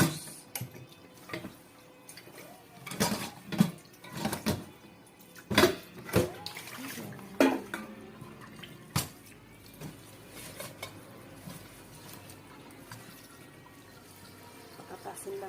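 A small amount of water is poured into a cooking pot for boiling moringa leaves into a juice. Irregular splashes and drips come in clustered bursts, then thin out to quiet trickles.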